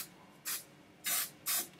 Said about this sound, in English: I'm going to do a little hairspray in it.